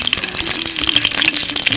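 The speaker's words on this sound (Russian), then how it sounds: "наливаем в казан примерно 100 мл масла." Vegetable oil, about 100 ml, poured into a heated kazan for plov, a short continuous liquid splash and trickle with faint rattling, close and fairly loud, no talk.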